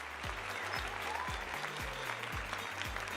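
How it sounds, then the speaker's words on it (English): An audience claps for a comedian at a live comedy show, with steady, dense applause throughout, loud and even, heard under a low background hum. "Next up, please clap."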